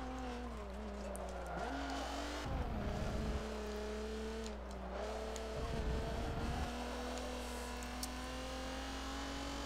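Race car engine in Forza Motorsport 7 on PC, droning steadily with shifting pitch as the car runs over grass, with two short rough rumbling bursts.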